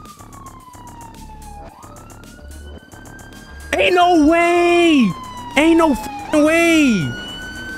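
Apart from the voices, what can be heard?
police sirens in a video game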